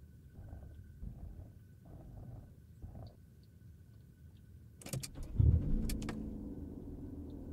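A car engine starts in the video game Unturned II, with a sharp mechanical crank followed by a steady low idle rumble. Quiet ambient game sounds come before it.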